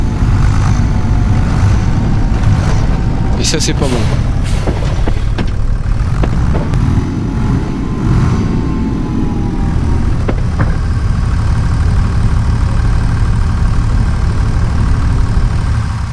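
A tractor engine in Farming Simulator 25, model 8340, rumbles loudly and jerks unevenly as its wheels slip, with brief higher-pitched bursts riding over the constant low drone; a voice speaks briefly over it.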